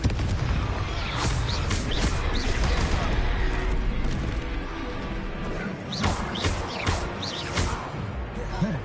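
Confringo fire-blast spells cast in the video game Hogwarts Legacy: sharp booming bursts in two clusters, loud and close, over a busy bed of battle noise and voices.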